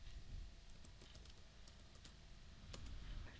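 Fingers type steadily on a computer keyboard, a dense patter of soft close keystrokes over faint background hiss, with no one speaking.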